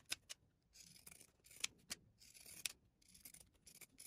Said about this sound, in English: I'm going to come in with my smaller scissors, and I'm going to snip a little bit closer into the seam line towards the neck